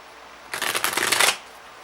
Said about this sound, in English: I'm going to do one last shuffle and cut.